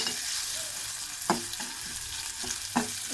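Chopped onion, garlic and green chilies fry in soybean oil for a mango and prawn curry, giving a steady close sizzle with a few sharp stirring knocks and no talking.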